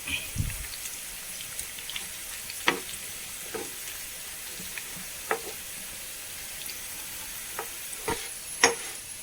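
Sliced elephant foot yam frying crisp in oil, a soft steady sizzle with scattered faint pops and crackles throughout, quiet and close, with no voices.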